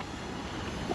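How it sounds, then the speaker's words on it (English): Steady outdoor wind buffets a microphone at a fishing spot, a dense broadband rush with no speech, holding at a constant level for a brief moment. "it's gonna be a little windy"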